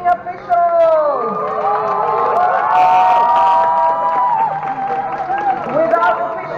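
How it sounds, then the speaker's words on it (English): A roller derby crowd cheers and applauds the skating and non-skating officials, a loud sustained roar of shouts and clapping with an amplified voice sounding over it. "I want a really nice cheer and applause for the skating and non-skating officials"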